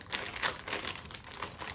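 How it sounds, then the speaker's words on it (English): A mailed book package from World of Books is torn open by hand, giving continuous close crinkling and rustling of paper packaging with small bursts of tearing throughout. "This next package is from World of Books, so let's get opening."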